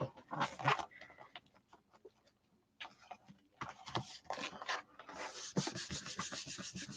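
Paper is rubbed and pressed by hand onto a gel printing plate in an art journal, uneven bursts of dry scratchy rubbing and scuffing with short pauses, close and moderately quiet.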